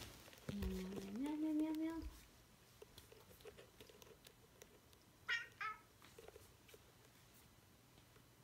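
A pet cat meows close by, one drawn-out rising call followed a few seconds later by two short, higher chirping meows, in an otherwise quiet room.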